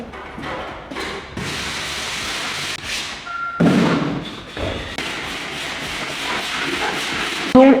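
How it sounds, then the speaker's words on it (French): Drywall sanding on a suspended plasterboard ceiling during renovation, a continuous broad rubbing rasp with a few dull thumps and brief pauses, close and steady throughout. "j'ai fini de poncer"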